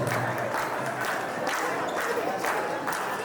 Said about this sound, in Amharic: አጨብጭቡላችሁ እንጂ